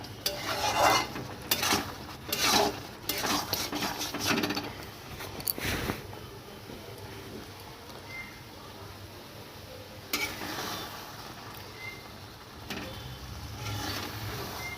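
Mung dal cooked with a fish head, with garam masala just added, being stirred in a pot: repeated scraping and clinking of a spoon against the pan in bursts during the first six seconds and again near ten seconds, with quieter bubbling between.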